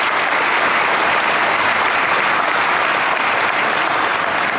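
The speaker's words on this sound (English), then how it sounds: "How about a round of applause for that generosity?" Steady audience applause inside an airport hangar at a JetBlue Airways ceremony, a dense, even wash of clapping at moderate volume with no talking over it.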